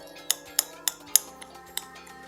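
Container of homemade BBQ rub with garlic shaken by hand, giving six sharp clinking rattles at an even, brisk rhythm, close and fairly quiet.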